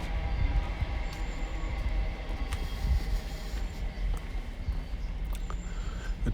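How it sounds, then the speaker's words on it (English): A train rumbles faintly in the distance on the railway near an open meadow, a low continuous drone with occasional light clicks and knocks, fairly quiet throughout. "Sounds as though the railway is doing something over there."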